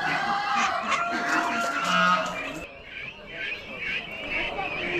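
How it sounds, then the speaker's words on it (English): Roosters and chickens call and cluck in a noisy poultry barn at an Amish animal auction, with overlapping bird cries and a voice talking nearby. "Looks like a bunch of roosters though."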